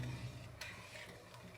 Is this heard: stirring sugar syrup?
yes